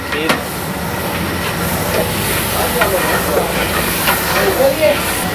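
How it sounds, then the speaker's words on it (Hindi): White lobia (black-eyed bean) masala with fenugreek frying in oil for a Punjabi curry, giving a steady, fairly loud sizzling hiss throughout while a person talks over it. "हाँ जी सर, ये तो अपने भून रहे हैं।"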